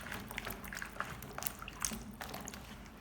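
Okra rinsed under running water in a kitchen, a faint, close trickle and soft splashing that continues steadily throughout, with no talking.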